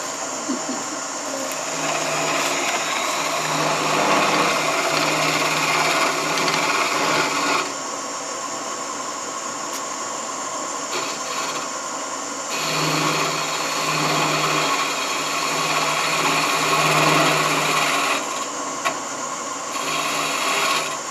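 A wood lathe spinning at 1,000 RPM while a pen is turned gives a steady hum, with rough scraping and rasping from the cutting tool that comes and goes in long stretches.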